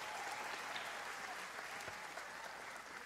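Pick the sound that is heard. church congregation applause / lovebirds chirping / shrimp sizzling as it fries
church congregation applause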